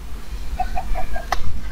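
A Minecraft chicken clucks in a quick series of five short, evenly spaced notes, ending in a slightly sharper one, over a low background rumble.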